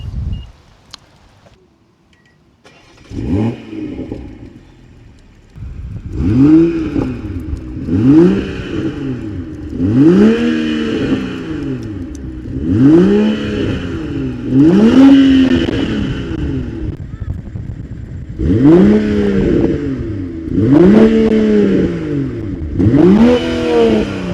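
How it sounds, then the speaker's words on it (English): A BMW M340i engine cranks and catches after a short pause, then revs repeatedly in rising and falling bursts, loud and close, with no talking. "I'm going to give you now a warm start and then some revs in comfort and in sport"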